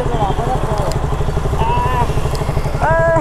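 A Royal Enfield Bullet motorcycle, long unused, runs with a steady close-up thumping putter that fills the whole recording, while people talk over it.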